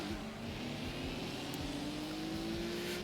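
A yellow Toyota MR2 races in Gran Turismo 2, its engine whining steadily and climbing slowly in pitch, a continuous moderately loud game engine tone throughout.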